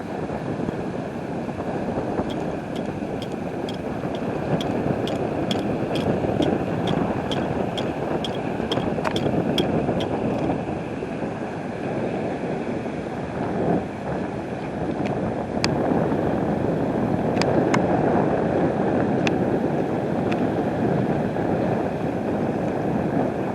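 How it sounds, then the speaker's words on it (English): Steady wind and sea noise at the ancient port of Caesarea in Israel, a continuous broadband rush with faint wave wash and occasional thin high tones, no talking. "Here is the port of Caesarea."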